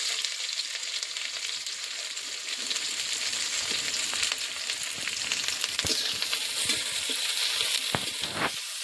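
Onions and slit green chillies fry in hot oil, giving a steady close sizzle throughout with occasional stirring clicks and scrapes, no voices.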